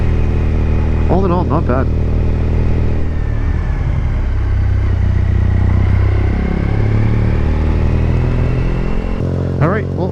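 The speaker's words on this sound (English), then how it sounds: "we'll just focus on what the bike sounds like" A Triumph Bonneville fitted with a TOR exhaust runs with a deep, throbbing rumble that rises and settles as it revs, loud and close throughout, while someone talks briefly over it.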